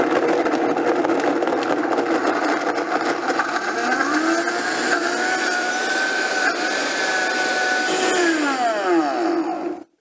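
A Vitamix blender runs continuously on frozen strawberries and blueberries, a loud steady motor whine with shifting pitch as the load churns, then a falling tone as it spins down and stops near the end.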